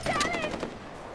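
Quick bursts of automatic gunfire in the video game Far Cry 4, a short rattling volley that fades after half a second, with a faint voice underneath.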